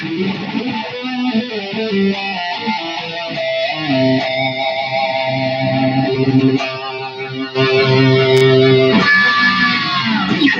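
Electric guitar played through two full humbuckers with a full, warm distorted tone, sustained chords and single notes ringing out steadily, close and fairly loud.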